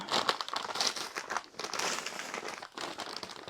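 Plastic crinkles and rustles continuously nearby as it is handled, a soft crackly texture with irregular bursts and no voices.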